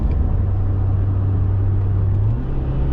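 A Mazda Miata race car on the Thunderhill Raceway East circuit during an SCCA driver school, heard from inside as a loud, steady engine drone with road rumble that shifts pitch slightly near the end.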